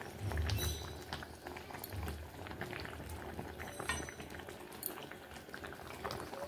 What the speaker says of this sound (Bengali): মাছ দেবার পরে আমি আরও 40-50 সেকেন্ড ফুটিয়ে নেব